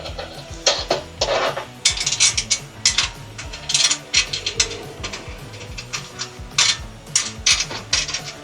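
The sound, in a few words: ratchet tightening bolts on Mercedes Sprinter door rack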